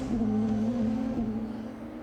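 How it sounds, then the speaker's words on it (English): A DTM race car engine drones through a chicane at the Nürburgring, a steady sustained tone with a slight pitch shift as it exits, heard continuously without talk. "This is our race-leading driver, Robin Freins, into the chicane and out."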